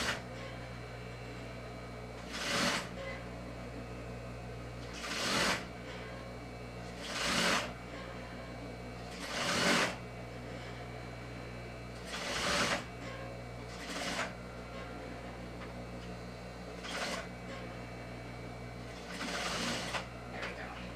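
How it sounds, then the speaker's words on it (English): A sewing machine stitches an elastic waistband onto a skirt with a low steady whirring hum. Short louder mechanical bursts punctuate it at regular intervals of about two seconds, with no talking. "And you back stitch at the end."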